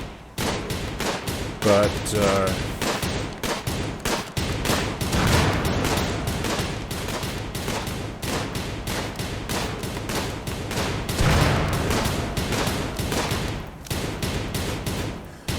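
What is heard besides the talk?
gunfire shooting animals in the video game Rimworld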